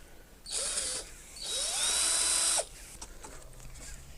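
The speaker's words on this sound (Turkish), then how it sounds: "Tornavida yardımıyla şöyle açıyoruz." Screwdriver prying open the plastic air filter cover on a TVS Jupiter 125 scooter: two close, loud bursts of plastic scraping and creaking, the second longer, ending abruptly before quieter handling noise.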